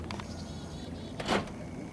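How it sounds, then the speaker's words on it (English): Power door locks on a 1996 Hyundai Sonata lock with a single brief mechanical clunk near the end, heard close up inside the car over a quiet background. "Lock the doors."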